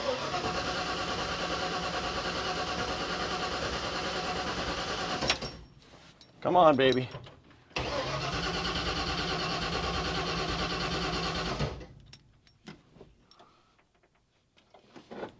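A car engine in a garage, fitted with a choke, roars loudly and steadily for several seconds, cuts out briefly, then runs loud and even again before stopping, with a voice heard in between.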